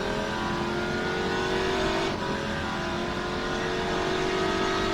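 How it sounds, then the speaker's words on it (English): A Corvette C7 GT3R race car with a 6.2 litre V8 and rear-wheel drive, driven in rFactor2, holds a loud, steady, buzzing engine note at high revs, with one brief dip in the middle. "It's a Corvette C7"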